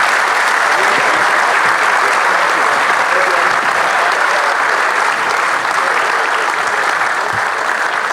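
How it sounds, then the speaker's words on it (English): Loud, dense applause from a dinner audience runs at a constant level throughout, with a faint murmur of voices mixed into the clapping. "Please, a round of applause for Trevor, Greg and Ian Chappell."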